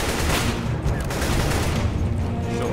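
Rapid, overlapping gunfire from an AWP sniper rifle in the video game CS:GO, loud and dense throughout with a booming low end, heard alone.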